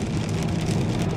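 Rain falls on a 2014 Mercedes-Benz C300 4Matic on a rainy morning, a dense, constant patter drumming close on the car's surfaces, loud and unbroken with no voices.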